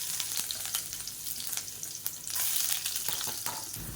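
Finely chopped garlic frying in hot oil in a pan, a dense continuous sizzle with crackles and pops, close and steady, swelling briefly partway through.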